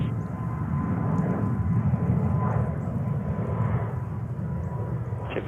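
A jet aircraft rumbles at JFK airport, a steady, moderately loud engine roar that lasts the whole stretch, with faint voices underneath.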